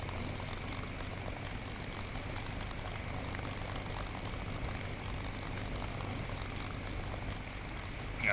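A P-51 Mustang piston engine in the DCS flight simulator runs at a steady low taxiing drone, a continuous propeller hum and rumble that holds even throughout without any change in pitch.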